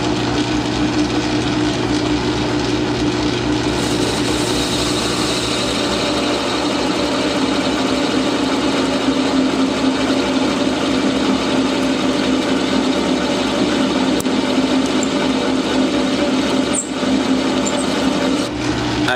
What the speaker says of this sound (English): starting to bog the lathe down and make the belt slip